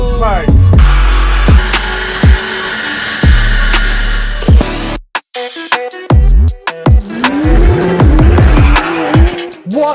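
A BMW 318i E46 with its first modifications revs hard and loud, with sharp repeated throttle blips, bursts of engine roar and a brief pause, then rises again with a climbing, wavering engine note.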